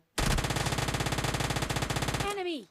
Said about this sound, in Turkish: Var ya elimde Uzi var acımam